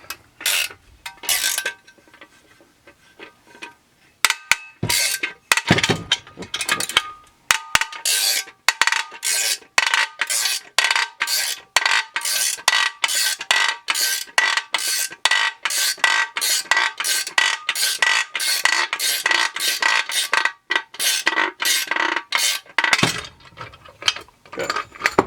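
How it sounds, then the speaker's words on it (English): A bearing being pressed out of a Huztl Farmertech 372XP clone chainsaw case, a long run of loud rapid ratcheting clicks and metallic clinks in steady rhythm, close up, with no talk. "We're going to start to press that bearing right out the case."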